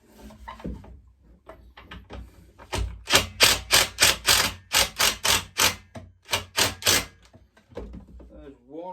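Impact gun hammering on a McCulloch B26 petrol strimmer, a series of about a dozen sharp, loud rattling bursts in quick succession between quieter handling noises.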